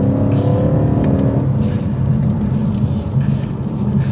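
Twin-turbo V8 of a 2023 BMW M550i accelerating from inside the cabin, a loud, steady low engine drone with a deep exhaust note that rises and then settles as the car pulls.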